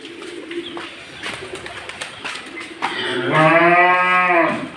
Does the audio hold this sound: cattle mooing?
yes